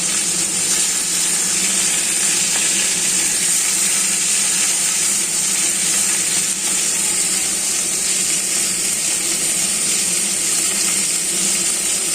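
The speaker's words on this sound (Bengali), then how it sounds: "মাছটা ভাজা হলো নাকি" Constant loud hiss of fish frying in hot oil, an even, unbroken sizzle lasting the whole stretch with no voices.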